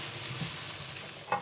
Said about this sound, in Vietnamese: Rồi bây giờ cho nấm vô xào